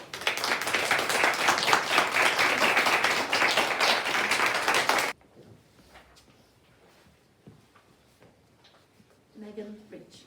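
A graduation audience bursts into loud, dense applause for about five seconds, then it stops abruptly, leaving faint room noise, a few scattered claps and a quiet voice.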